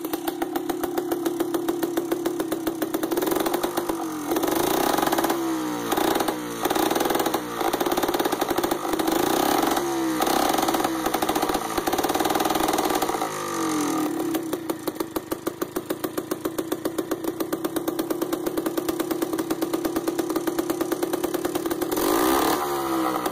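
A 50cc go-kart engine runs steadily at a loud, close idle with a buzzing drone, dipping and surging through several brief throttle changes before settling back to an even idle.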